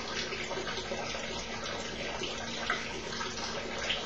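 In a lab experiment, water discharges steadily from an orifice in a tank, producing a continuous, soft, even splashing rush that holds constant at low volume with no talking.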